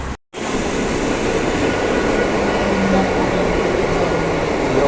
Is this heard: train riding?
yes